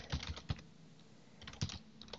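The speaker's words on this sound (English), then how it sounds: "Usually I'll type def just to make it cleaner" Fingers tap code on a computer keyboard in short clustered bursts of crisp, close key clicks with brief pauses between, quiet and alone.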